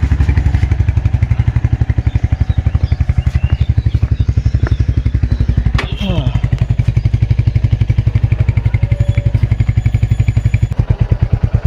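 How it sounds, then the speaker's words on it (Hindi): A motorcycle idles steadily close by with a regular engine pulse and some clatter, a brief mechanical rattle breaking in partway through, as it is wheeled out and started at the start of a ride from Dehradun toward Ukhimath. "ये निकाल रहे हैं जी बाहर बाइक"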